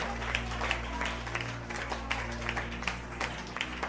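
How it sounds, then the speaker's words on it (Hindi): A church congregation at a Sunday worship service claps along in praise, rhythmic hand claps sounding faint and somewhat distant over a low steady hum. "ताली बजाओ, तारीफ करो जोर से, और जोर से बजाओ, तारीफ करो"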